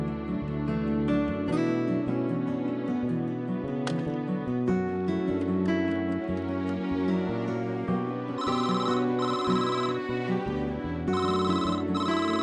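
A telephone ringtone in a Tamil TV serial scene, rising as a steady melodic electronic ring that repeats in bright pulses for the whole stretch, loud and alone with no talk over it.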